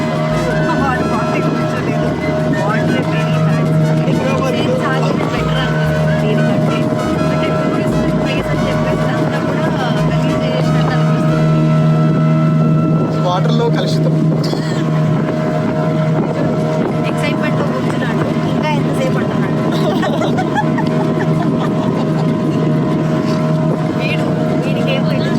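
A boat ride on open water in Goa with a steady engine drone and wind rushing past throughout, while people talk over the noise.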